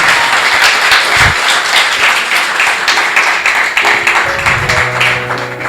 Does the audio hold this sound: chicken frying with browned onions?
no